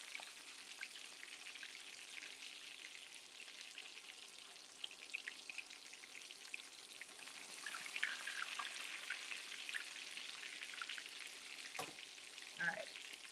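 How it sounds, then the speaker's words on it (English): Battered food fries in hot oil, giving a steady, soft crackling sizzle with scattered pops throughout and a few light clinks near the end. No one speaks. "Now this is making me want to fry all of them."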